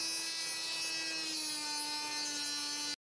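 A saw cuts excess length off a 3D-printed axial compressor shaft, giving a steady, continuous rasping drone with a sustained whine, close and loud for about three seconds before stopping abruptly.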